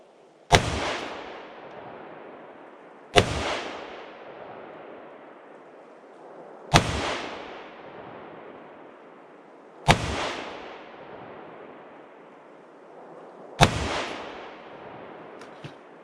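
Five evenly spaced 5.56 rifle gunshots crack out one after another, each sharp report followed by a decaying echo, loud and close with no talking between them.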